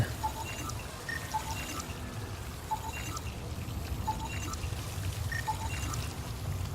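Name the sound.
water flushing stasis pods away in video game Mass Effect Andromeda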